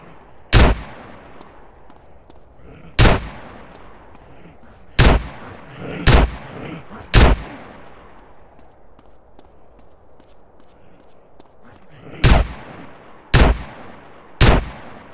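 Single gunshots from a firearm in Left 4 Theft, a San Andreas game mod, ring out one at a time at irregular intervals, loud and sharp, with short echoing tails and quiet gaps between them.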